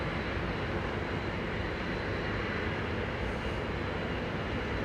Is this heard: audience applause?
no